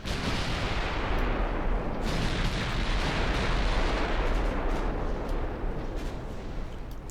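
Warship guns fire continuously in the Dreadnought naval game, a dense, loud barrage of booming artillery blasts rolling over each other without pause.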